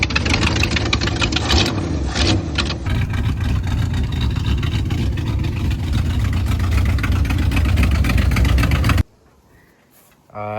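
A 1962 Ford Galaxie 500's engine runs loud and close with a steady, rough rumble for about nine seconds, then cuts off abruptly, with a voice talking over it.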